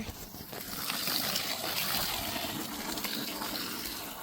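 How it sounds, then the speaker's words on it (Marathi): Water gushes steadily from a newly started borewell, a continuous splashing flow that swells slightly and stays fairly soft, with no one speaking. "आपली जे बोर आहे ते फायनल चालू झालेली आहे"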